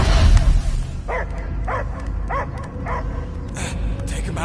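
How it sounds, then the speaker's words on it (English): A dog barks in a steady series of about five sharp, evenly spaced barks, moderately close, over a busy background of hum and noise with no clear speech. "I hear only barking"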